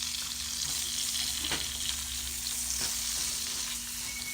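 Shallots frying in extra virgin olive oil in a pan, a steady close crackling sizzle with a faint hum underneath and a couple of soft clicks.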